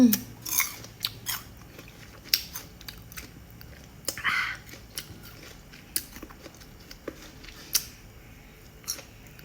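Whole small sour fruits are bitten and chewed close up, giving scattered crunchy bites and wet chewing clicks in bursts separated by pauses, with no talk over them.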